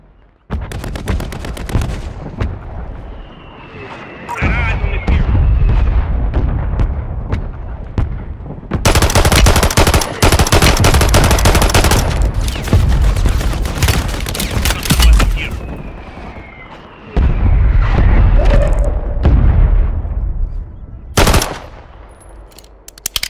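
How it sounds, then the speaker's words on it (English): Mortar strike explosions in Call of Duty: Warzone, mixed with rapid, dense automatic gunfire. Long stretches of loud, crackling blasts give way to brief quieter gaps before the barrage resumes. "Friendly mortar strike on the way."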